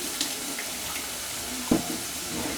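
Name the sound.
draining water from pot of food before mashing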